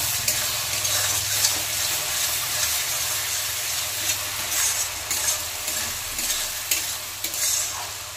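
Spice masala sizzles and is stirred in a pan while cooking a fish-head and cabbage dish, a steady close frying hiss broken by occasional scrapes of the spatula, with no talking.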